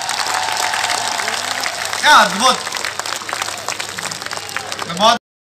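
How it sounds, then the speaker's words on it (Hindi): An audience at a late-night poetry recital at the Bhilwara festival in Rajasthan breaks into applause, a broad wash of clapping under a voice speaking into a microphone, ending with an abrupt cut. "एक बार मुझे दोनों हाथ उठा के तालियां बजा के बताओ"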